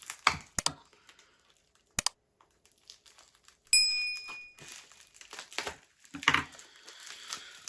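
Plastic packaging of a parcel crinkles and tears in short bursts with pauses between, close and fairly quiet, followed by a longer rustling stretch.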